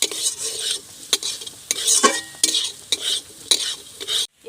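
Fenugreek seeds and chilli powder sizzle in hot oil for an Indian gooseberry (amla) pickle, with a steady frying hiss broken by repeated spoon stirs and clinks against the pan, close and fairly loud, with no talk.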